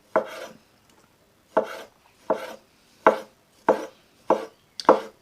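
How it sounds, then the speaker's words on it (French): A knife cuts citrus supremes into pieces on a board, producing seven crisp, evenly spaced chopping thuds, each short and close, separated by silence. "on vient couper nos suprêmes en morceaux"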